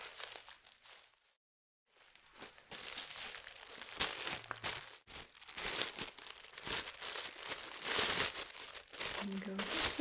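A plastic evidence bag crinkles and rustles close up in bursts, with a brief silent gap near the start, then dense crackling handling sounds under a soft voice.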